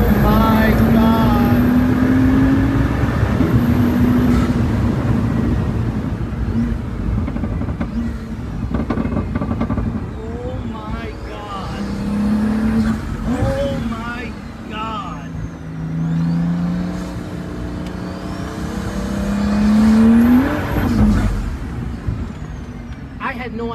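Pagani Huayra BC Roadster engine pulling at full power on a bumpy road near Modena, heard from inside the open car as a loud, rising and falling roar with wind noise while occupants talk and exclaim over it.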